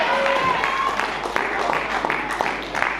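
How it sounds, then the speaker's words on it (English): Wrestling crowd at an Australian pro wrestling show erupts in sustained applause and cheering after a kick-out, dense clapping throughout with voices mixed in. "Crowd erupts with the kick out"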